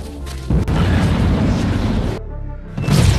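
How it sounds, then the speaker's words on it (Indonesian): A heavy, booming dynamite blast in an alien nest erupts abruptly and rumbles on, briefly drops away, then a second roar swells back in. "melemparkan beberapa dinamit ke dalam sarang alien"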